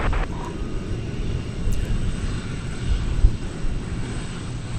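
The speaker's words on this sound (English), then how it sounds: "This American aircraft arriving from McAllen, Texas." An American Airlines jet arrives at DFW Airport at night, its engines a broad, steady rumbling roar heard from a distance, low and continuous throughout, with no talking.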